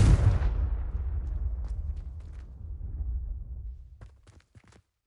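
A Confringo blasting spell from Hogwarts Legacy goes off as a loud, close boom, and its rumbling tail fades over several seconds. A few faint crackles and pops come through near the end, and nobody speaks.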